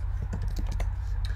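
Rapid clicking of a computer keyboard as code is typed for a MERN stack application, a steady close patter of keystrokes over a low constant hum, with no voices.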